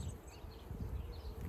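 Honey bees buzz around an open hive during an inspection, a steady low hum close by with no talking.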